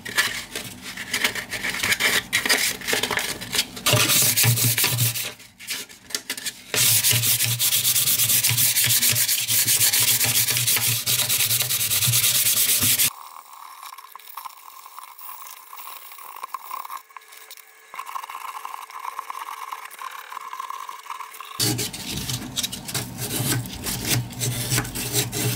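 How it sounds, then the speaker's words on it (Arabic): Fine 320-grit sandpaper rubs back and forth over a lamp shape made of PVC pipe, producing steady, close, scratchy strokes that shift in tone across several passes. A quieter stretch of lighter rubbing sits in the middle. "نبدأ نصنفر الشكل كله."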